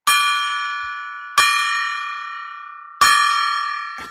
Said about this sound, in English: Let's ring the golden gong.